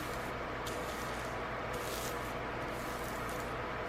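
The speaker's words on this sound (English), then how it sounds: "I'm spraying it with alcohol" Steady, close hiss of a spray bottle misting alcohol continuously onto deli paper, with brief brighter bursts of spray near the start and middle, no voices.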